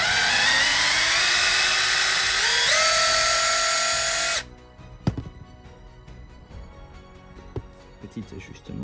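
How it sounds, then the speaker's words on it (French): A small drill whines loudly and continuously, rising in pitch, while holes are bored in an H0 scale model traffic light. It then stops abruptly and is followed by quiet clicks and handling noises. "il faut percer"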